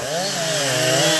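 Chainsaw cutting a tree from high up in its crown, a loud sustained whine with wavering pitch as the engine loads and revs under the cut, no voices heard over it.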